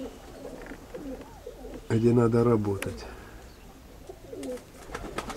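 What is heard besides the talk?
pigeons cooing in a pigeon loft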